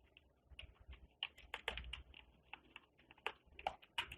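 Code being typed on a computer keyboard, with quick irregular bursts of clicking keystrokes and short pauses, close and fairly quiet with no voices.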